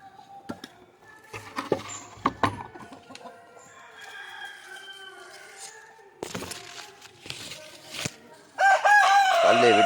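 Backyard chickens cluck in scattered bursts while being fed leftover rice, then a rooster crows loudly and close at the end, with someone talking quietly in between.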